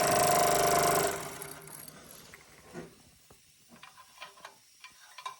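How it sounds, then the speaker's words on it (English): A Jensen Model 75 toy steam engine running: a loud broadband rush of steam in the first second, then fainter irregular ticking, clicking and mechanical knocks as the small engine and its belt keep turning. "This engine is truly running balls out."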